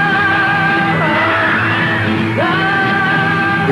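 A crowd of fans screaming and yelling in the 1964 trailer for A Hard Day's Night, a loud continuous wall of shrieks with sustained tones running through it for the whole stretch.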